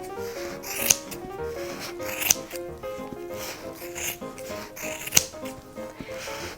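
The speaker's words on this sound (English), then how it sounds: "take a pair of scissors and cut the apple in half" Scissors snipping through a needle-felted wool apple, a few soft, sharp cuts with quiet rubbing of fibres in between, close and fairly faint.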